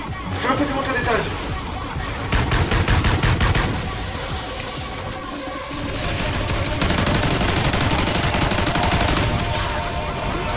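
Rapid bursts of automatic turret gunfire in a chaotic video game, loud dense rattling volleys that come in waves with short gaps, with excited voices talking over the shooting.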